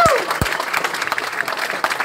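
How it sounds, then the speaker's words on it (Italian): Concert audience at Legend Club in Milan applauding a sound technician as he is introduced, a dense, steady wash of clapping that stays loud throughout, with a few brief whistles and shouts near the start. "e il nostro tecnico del suono Mauro Vergara, un bel applauso."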